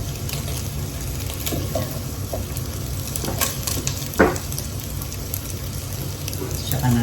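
Garlic sautéing in a little cooking oil in a pan while making spicy ginataang laing, a steady close sizzle with scattered pops and a few clinks of a utensil, no talking.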